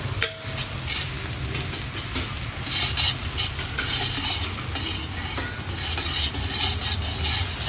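Fresh turmeric and carrot sabzi frying slowly in desi ghee makes a dense, steady sizzle close up, with soft stirring scrapes and light clinks throughout and no talking.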